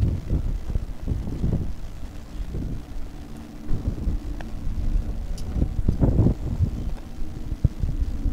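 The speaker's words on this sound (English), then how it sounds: "I think everybody wants to get out of this wind." Strong gusts buffet the microphone at a Bullring short-track midget race, with steady low rumble and irregular thumping bursts throughout, broad and fairly loud, with faint motor noise mixed in underneath.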